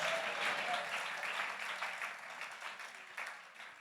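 A church congregation applauding during an evening sermon, a dense, even wash of many clapping hands heard from some distance, gradually thinning out.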